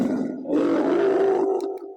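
A karaoke speaker's voice changer turns a voice into a deep, growling, monster-like roar, a single sustained burst of about a second and a half, loud and close.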